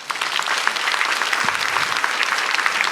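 A church congregation at an Easter revival evening service claps together in praise, a close, steady stream of individual hand claps forming continuous applause for about three seconds.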